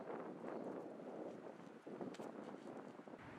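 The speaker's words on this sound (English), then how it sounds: "You can hear the wind again." Outdoors at a disc golf tournament, wind buffets the microphone in a continuous low, rumbling roar that swells slightly, with no clear voices.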